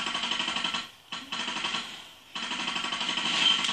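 Rapid automatic gunfire in the mobile shooter game Free Fire, two dense bursts of rattling shots with a short gap between them, loud and close.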